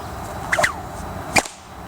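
Two sharp contact whip cracks from a shoulder roll, about a second apart, fairly light and close, over a low background hum.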